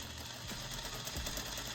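A sewing machine stitches the facing down onto a coat pocket with a steady, fast mechanical whir and rapid needle clatter, heard close and alone for under two seconds.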